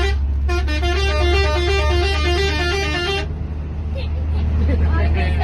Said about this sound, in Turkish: otobüs kullanıyor